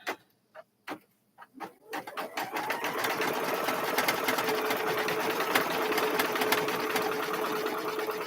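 Home sewing machine stitching, a few single clicks of the needle first, then a steady rapid run of mechanical clatter, close and moderately loud.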